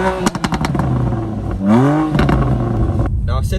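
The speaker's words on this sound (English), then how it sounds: "if you do want to switch up to Sport or Sport Plus, it changes the exhaust tone" A BMW M2 Competition in Sport mode rumbles with a loud, close exhaust note. Crackles and pops at the start lead into a rising rev, followed by a throaty burble and a sharp final burst.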